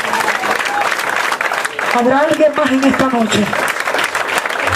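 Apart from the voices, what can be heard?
congregation applauding in church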